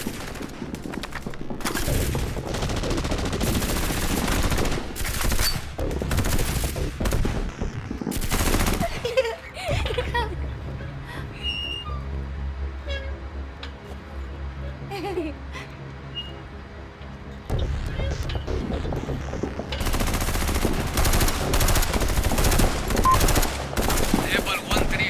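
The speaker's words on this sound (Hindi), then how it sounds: "यहाँ बहुत जोरों से गोलीबारी हो रही है।" Heavy gunfire in an action movie battle: sustained machine-gun bursts and rapid shots, loud and dense at the start and end, with a quieter stretch in the middle carrying low rumbling and scattered effects.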